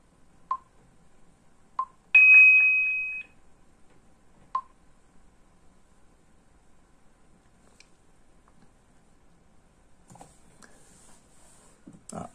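A prototype X-Sense security kit plays a few short beeps and a brief tone through its small speaker, thin and quiet in an otherwise silent room, followed by faint rustling.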